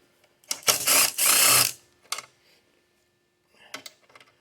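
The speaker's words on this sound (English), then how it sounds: "Take those bolts out." Bolts being removed with a 5mm Allen key from the belt cover of a Kawasaki Vulcan 900 motorcycle: a dense burst of close metallic ratcheting and clicking, then a few short clacks and a faint rattle near the end.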